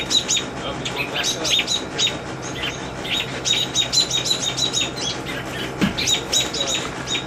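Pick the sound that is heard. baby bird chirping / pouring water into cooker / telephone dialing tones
baby bird chirping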